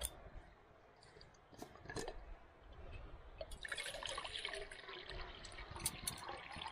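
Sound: water being poured into a pot at a camp stove

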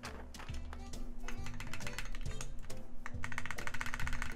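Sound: typing on Reborn60 mechanical keyboard with GMK 9009 keycaps

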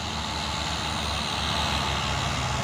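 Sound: smoking Fuso truck struggling to climb a hill

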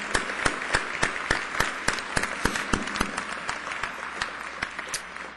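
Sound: applause for standing alumni at graduation

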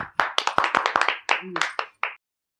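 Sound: people clapping hands

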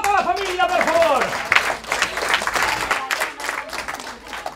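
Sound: audience applause for the family

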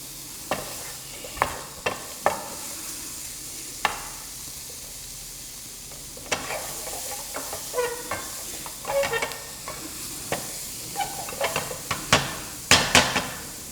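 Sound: food frying in a pan with salt

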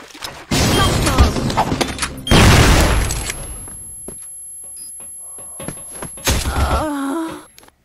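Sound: grenade explosion in the video game CrossFire

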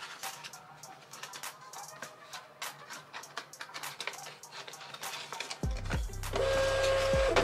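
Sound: label printer feeding and printing a shipping label

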